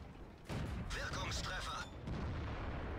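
Tank cannon fire in World of Tanks from an M4 Improved, a loud booming shot with a sharp onset followed by rumbling battle noise, then a second heavier blast near the end.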